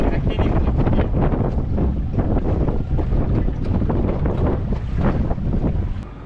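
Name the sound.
strong wind blowing on the water while fishing from a boat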